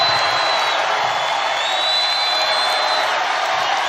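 A basketball arena crowd at a Michigan State women's game cheers in a dense, continuous roar with scattered whoops, loud and steady throughout.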